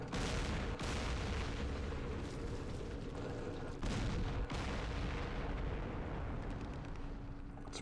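Tank guns firing in the Vietnam war game Campaign Series Vietnam, Battle of Hue: heavy rolling booms and rumbling blasts fill the whole stretch, with sharp louder bursts near one second and four seconds.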